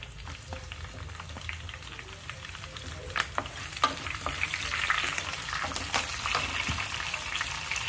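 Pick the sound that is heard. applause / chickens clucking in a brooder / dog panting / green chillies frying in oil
green chillies frying in oil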